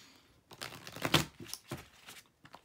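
Soft, crisp riffling bursts of a tarot deck being shuffled, several quick flutters in succession, close and fairly quiet.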